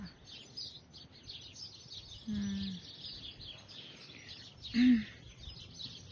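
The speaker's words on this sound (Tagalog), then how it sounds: "Yan, ang ingay na ng ibon." Birds chirping faintly in a park in the evening over a steady outdoor hiss, with two louder, buzzy calls standing out briefly in the middle.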